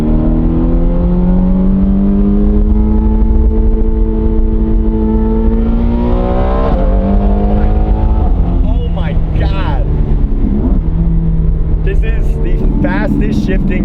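A Ferrari with a single-clutch gearbox accelerates hard, engine pitch climbing through several quick upshifts, each marked by a sharp drop and renewed rise, loud and close from inside the car, with voices briefly audible toward the end.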